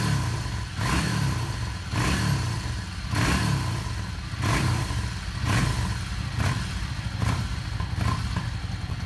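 A Yamaha Star 650 motorcycle engine with freshly rebuilt carburetors, revved in short, sharp bursts roughly once a second. Each blip rises and falls quickly over a rough, steady idle, close and fairly loud throughout.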